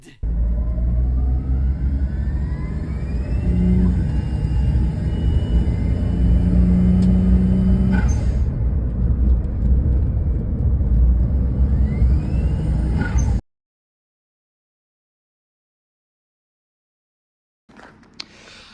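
A Suzuki Wagon R with an Apexi aftermarket exhaust runs outside, a steady deep idling rumble with a few rising revs, loud and close, cutting to silence before a brief return at the end.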